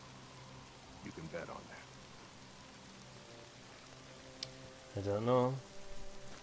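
Steady rain falls throughout in the Days Gone video game, a soft continuous hiss under the talk of game characters.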